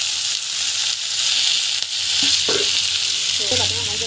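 Spices with turmeric and chili powder sizzle and crackle loudly in a hot frying pan, a steady hiss with a few scrapes and short clicks from stirring.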